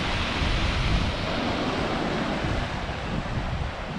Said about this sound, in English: The sea's really rough down here, bashing against the rocks.